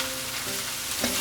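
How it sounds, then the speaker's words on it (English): Seaweed frying in oil in a pot over raised heat while making Korean seaweed soup, a steady close sizzle with faint crackles and one slightly louder pop near the end. "bit more heat will cook that seaweed a little quicker and make sure everything's frying up"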